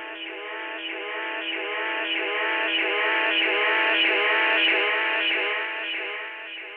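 A sung vocal line processed through a lo-fi delay plugin with high feedback, its echoes repeating and stacking into a dense, narrow-band, smeared wash that swells and sustains throughout.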